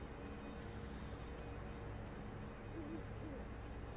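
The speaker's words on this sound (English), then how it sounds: "Woohoo! An owl." An owl hoots faintly in a video game forest, a few soft low calls over a steady ambient wind-like drone.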